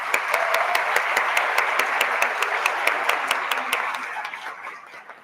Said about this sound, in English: So can we all give them a round of applause?